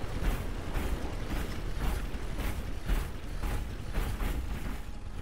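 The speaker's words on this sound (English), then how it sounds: "Not sure they appreciate a stomping mech." A stomping mech in the game Lightyear Frontier makes steady rhythmic mechanical thumps with creaking, grinding servos, about two per second, continuous and moderately loud with no voices.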